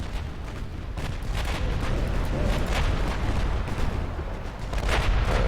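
Torpedo strikes detonate against a warship, the Urchin, in Ultimate Admiral Dreadnoughts during a British 1900 naval campaign: a loud, continuous roar of booming blasts and rumbling impacts, with no gaps, for several seconds.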